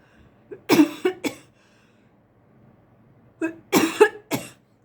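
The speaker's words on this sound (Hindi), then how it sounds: "मेरे को गले में खांसी आ गई" Two separate bursts of coughing, each a cluster of three or four harsh, close coughs with a quiet pause between them.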